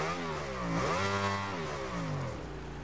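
A motorcycle engine roars in the racing video game MotoGP 19. It revs up to a peak, holds, then falls away and climbs again, loud and close with no talk.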